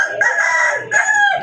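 An Australian dove calls in a short run of clear, sustained tonal notes with a brief break partway through, close and fairly loud, with no talking over it.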